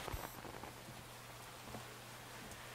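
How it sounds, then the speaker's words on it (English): Heavy rain pours down in the video game Metal Gear Solid 2, on the deck of a tanker ship: a faint, steady hiss of downpour with a few scattered drops and brief clicks on top. "Especially in this downpour."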